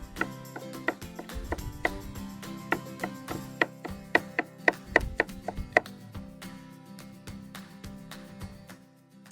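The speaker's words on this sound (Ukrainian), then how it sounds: "Часник ми теж будемо бити. Я його завжди б'ю або давлю. Ну і також нарізаємо." Garlic chopped with a knife on a board for a Chinese-style smashed cucumber salad, a close series of sharp irregular knife taps in quick bursts, fading to quiet near the end.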